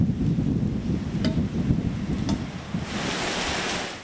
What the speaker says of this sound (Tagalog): Bandang alas 11 kagabi nang marinig ang sipol na hangin ng Super Typhoon Nando sa Santa